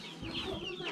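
A chicken clucks close by at a rural native village in Banaue in the Philippines, giving a short run of fairly faint clucks with no one speaking over them.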